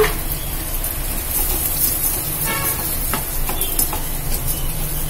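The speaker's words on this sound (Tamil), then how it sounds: "நெய்யிலே நம்ம இந்த அவளை வறுத்துக்கலாம்ப்பா" Flattened rice (aval) roasts in ghee in a pan with a steady, close hissing sizzle and faint scraping, no voices.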